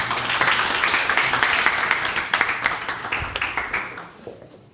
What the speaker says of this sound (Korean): 박명권 회장님을 큰 박수로 모시겠습니다